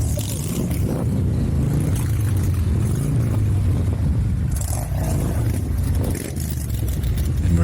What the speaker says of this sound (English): Let's crank up the volume so you can hear these amazing engines.